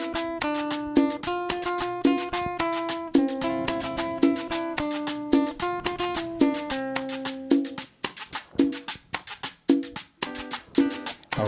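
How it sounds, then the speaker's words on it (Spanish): Electric guitar riffs in a music production, played alone as an isolated track: repeated plucked notes in a steady rhythmic pattern, close and clear, with short rests between phrases. "Vamos a escuchar la guitarra con los riffs."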